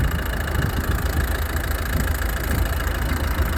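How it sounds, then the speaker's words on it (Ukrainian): A 2011 Volvo V50 1.6 D2 diesel engine idles steadily nearby, a constant rough knocking rumble with no voices. "Ну тут чуть як працює цей двигун."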